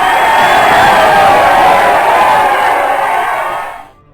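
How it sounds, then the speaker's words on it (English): A crowd cheers in a Hex tabletop session, a loud, dense roar of many voices whooping and shouting together, held steady for several seconds before fading out abruptly. "They let out a cheer."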